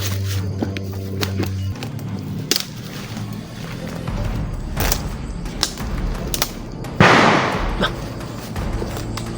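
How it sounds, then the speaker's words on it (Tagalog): Several sharp, loud bangs ring out at irregular intervals outdoors, with a louder crack near the end, over wind and rustling background noise. "Putok ng baril yun ah."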